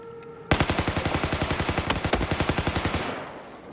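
AK-5C assault rifle firing in the video game Battlefield 4: a sudden loud burst of rapid, evenly spaced automatic shots lasting about two and a half seconds, then a short fading tail.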